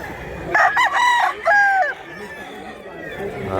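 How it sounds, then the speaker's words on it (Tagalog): A rooster crows in two drawn-out calls at close range, with chickens clucking around it amid background chatter at a poultry seller's stall. "Ang mga manok."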